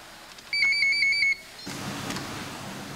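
Electronic voting machine alarm signalling the end of a vote: a clear, loud run of about seven rapid high beeps lasting under a second, followed by quieter room noise.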